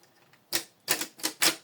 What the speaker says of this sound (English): Then take 4x6 photo paper, face it down, then adjust the paper guide.